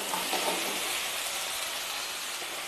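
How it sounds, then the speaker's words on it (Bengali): Cut potatoes tossed into spice masala frying in a pan give a steady, dense sizzling hiss, close and continuous, with no talking. "মশলার সঙ্গে আলু খুব ভালোভাবে মিশিয়ে নেব"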